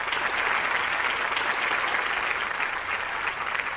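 A television studio audience claps steadily and loudly at a celebrity courtroom-style talk show, a dense, unbroken wash of applause throughout with no voices above it.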